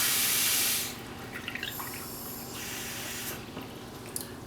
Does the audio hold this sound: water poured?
yes